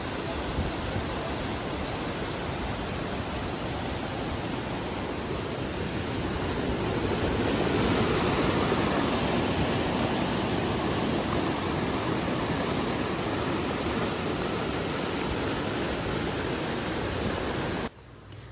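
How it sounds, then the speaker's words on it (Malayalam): Achankallu waterfall in Kasaragod, Kerala, running strong, pours as a steady, loud, broadband roar of rushing water that holds unbroken and close throughout, then cuts off abruptly near the end. "ഇതാട്ടോ ഇതാണ് അച്ചങ്കല്ലെ വെള്ളച്ചാട്ടം"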